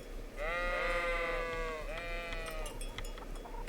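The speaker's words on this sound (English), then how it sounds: "Look at the sheep." Sheep in the Kingdom Come: Deliverance video game bleating twice, the second call shorter, close and fairly loud over a steady outdoor background hum.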